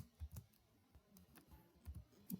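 Quiet keystrokes on a computer keyboard as a blog title is typed, a handful of soft, irregular clicks in short bursts, close and faint.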